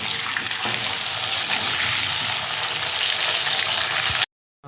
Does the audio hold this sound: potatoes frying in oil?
yes